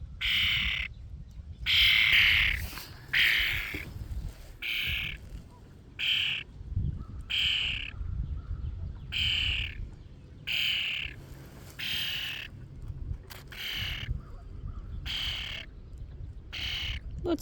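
A friendly wild bird gives repeated harsh squawking calls in regular bursts, loud and close, spaced by short pauses over a low outdoor background.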